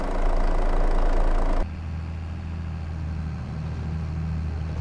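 A tractor engine in Farming Simulator 22 drives at speed, a steady low droning hum that is loud at first, then drops to a quieter, even rumble with harmonic tones for the rest.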